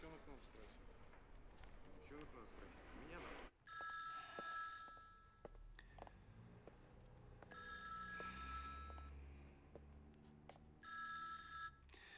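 Telephone ringing in three bursts of an electronic ring during a call in a Russian TV drama, with quiet talk and room noise in the gaps between rings.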